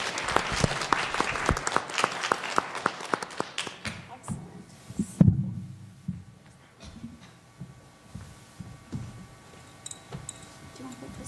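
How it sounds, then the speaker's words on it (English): Audience at a school grade-level spelling bee applauding the spellers: a few seconds of brisk, close clapping that fades out by about the fifth second, followed by a thud, scattered taps and quiet movement in the room. "A round of applause for our spellers"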